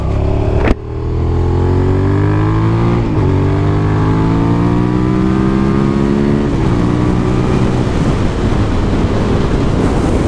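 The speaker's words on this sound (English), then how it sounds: "as I continue to ride here, the bike will cool down" A 1999 Suzuki SV650 motorcycle engine revs up through several gears, its tone climbing and dropping at each shift, loud and close with a sharp knock at the start and rising wind roar.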